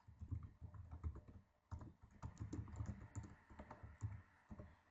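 Rapid typing on a computer keyboard while entering search terms, a dense run of close, uneven key clicks with short pauses between bursts.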